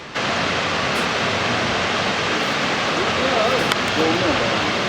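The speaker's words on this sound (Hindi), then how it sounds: "तो पानी नहीं है तो पूरा झरना है, और बहुत ही इसकी आवाज़ इतनी तेज़ है कि ऊपर तक यहाँ तक आ रही थी।" A waterfall in the Kinnaur valley roars as a steady, dense wash of rushing water that runs unbroken, with faint voices surfacing briefly under it.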